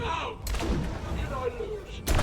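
Gunfire in the video game It Takes Two: a couple of sharp, loud blasts at the start and end of the stretch, with a rumbling game soundscape between them and no speech.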